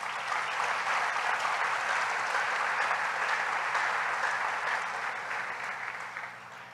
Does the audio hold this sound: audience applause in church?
yes